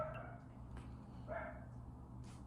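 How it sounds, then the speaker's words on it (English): Dogs bark faintly in the distance, a few short muffled yaps rising over a steady low hum in an indoor room, with no talking. "they started barking again."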